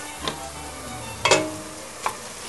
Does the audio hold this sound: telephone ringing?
no